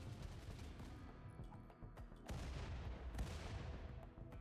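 Rapid, dense gunfire and booming blasts from combat mechs and defensive turrets in the video game RimWorld, loud and continuous with heavy low-end thumps, no voices.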